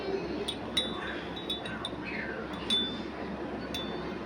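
A spoon clinks repeatedly against a glass as honey is stirred into ginger water, a series of light, bright taps over a steady background hiss.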